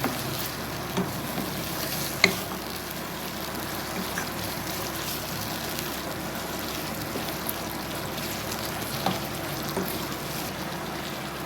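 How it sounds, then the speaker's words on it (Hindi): Ginger and garlic fry in a pan for a spicy qeema dish, giving a steady, even sizzle throughout with a few faint clinks of stirring and no talking. "और इसको तब तक पकाऊंगी 3 से 4 मिनट पकाऊंगी ताकि अदरक लहसुन का जो कच्चापन है वो ख़त्म हो जाए"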